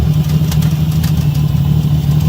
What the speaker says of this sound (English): That's the muffler. That's the muffler knocking.